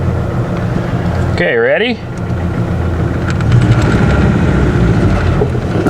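A 2013 Ford F-series truck with a suspected misfire runs at a steady, rumbling idle throughout while the clutch is tested, its engine getting slightly louder toward the end, with a short spoken exchange early on.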